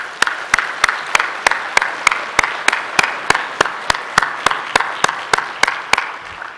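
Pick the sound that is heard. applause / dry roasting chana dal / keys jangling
applause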